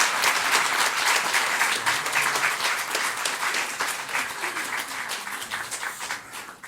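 A church congregation applauds steadily for several seconds, a dense wash of many hands clapping at once that tapers slightly toward the end.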